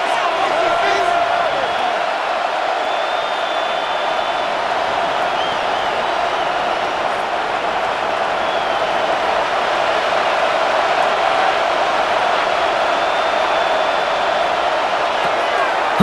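Stadium crowd roars in a Madden NFL 26 simulation of the Philadelphia Eagles against the Los Angeles Chargers, a steady dense wash of fan noise throughout with no break.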